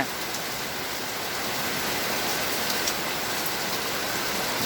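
Heavy rain pours steadily in the Dindigul and Tiruppur districts, a dense, unbroken hiss that stays loud and uniform throughout, with no voices.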